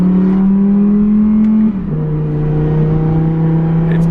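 Audi R8 V10 Plus driven in performance mode, a loud steady engine drone that drops in pitch with a brief burble around a gear change, exhaust pops barely standing out.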